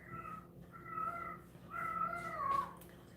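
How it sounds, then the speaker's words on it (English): A female cat in heat yowls in drawn-out, wavering calls, three long cries separated by short pauses, fairly close and clear with no talking. "I don't know if anybody can hear the cat call in the background"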